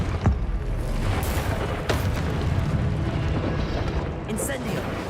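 The Confringo spell in Hogwarts Legacy sets off a booming explosion with crackling bursts and sharp impacts, layered over ongoing combat noise, with a voice heard in the mix.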